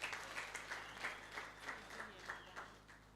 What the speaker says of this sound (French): Acclamons encore très très fort le Tout-Puissant.